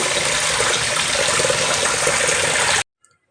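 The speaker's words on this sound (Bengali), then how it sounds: "তো চালটা এবার আমি ধুয়ে নেব" Broad, steady splashing and sloshing of rice grains being rinsed in water, loud and close for nearly three seconds, then stopping abruptly into silence.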